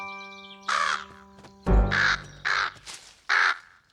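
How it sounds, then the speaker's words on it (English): Crow in the Bananas in Pyjamas children's show giving five loud, separate caws in an uneven rhythm, close and clear over a quiet musical background. "Hello, Mr. Crow"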